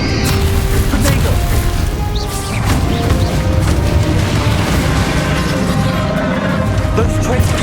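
Confringo fire-spell blasts in Hogwarts Legacy gameplay on Xbox Series X land as a series of crashing booms and thuds inside busy, continuous fight noise, with some voices mixed underneath.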